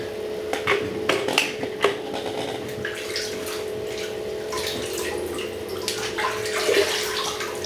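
Water splashing and running as a man rinses his face after shaving, with steady tap flow and intermittent close splashes and drips.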